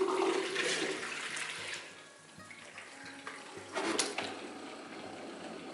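Rinse water drains out of a JOBO CPE3 film processor during E6 processing, a steady rushing and gurgling flow with a surge near the end, with no voices.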